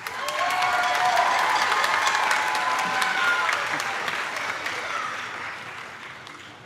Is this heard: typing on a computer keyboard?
no